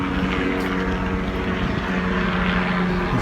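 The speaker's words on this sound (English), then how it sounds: "There's a helicopter." A helicopter flies overhead on Governors Island in New York City, a loud, steady, broadband rotor and engine roar filling the whole moment without any talking.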